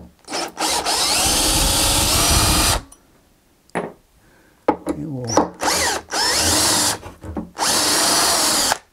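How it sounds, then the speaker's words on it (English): A power drill whirs loudly in several bursts as it backs screws out of an RCF SUB 905AS II subwoofer cabinet, with short pauses, rattles and handling noises in between. "we're going to go ahead and get all these lower screws out here"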